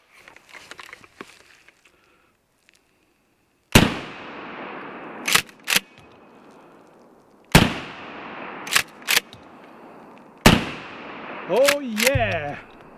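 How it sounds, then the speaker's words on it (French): Security shotgun with an 18-inch barrel firing slugs at pumpkins in a forest: five sharp, loud blasts in two quick pairs and a single, each with a ringing decay, after a quiet stretch with faint movement, and a voice shouting at the end. "J'ai mis mon petit canon de 18 pouces Security. On a 3 citrouilles et j'ai un restant de slugs."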